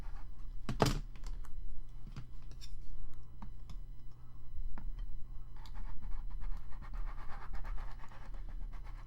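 Paper being trimmed with a cutter against a ruler for a spring floral craft project: repeated scratchy scraping passes and small clicks and thunks, close and moderately quiet, with no voices.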